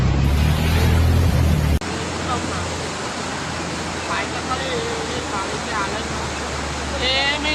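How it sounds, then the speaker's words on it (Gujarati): Floodwater of the Vishwamitri river in Vadodara, Gujarat, swollen by extreme rainfall, rushes as a loud, steady, close roar, with a sharp shift in tone partway through and faint voices in the background. "ત્યાં આગળ પાણીનો ફોર્સ જબરદસ્ત છે"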